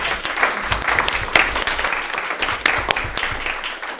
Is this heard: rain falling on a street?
no